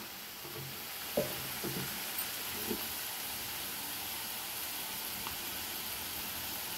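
Prawns fry in oil for an okra and raw prawn curry as turmeric goes in, giving a steady, close hiss of sizzling with a few soft scraping knocks from stirring early on.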